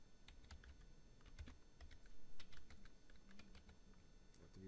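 Typing on a computer keyboard while entering Cisco router configuration: a steady, fairly quiet patter of key clicks with uneven rhythm and no talking.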